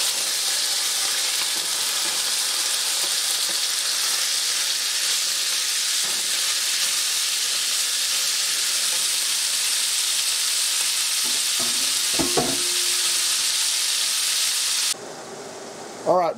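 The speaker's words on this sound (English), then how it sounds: "when you see your oil smoking just a little bit like that, that's time to add the meat" Wild turkey meat stir-frying in hot oil in a skillet on a stove: a steady, loud, close sizzle that runs almost unbroken, with faint clinks of stirring near the end.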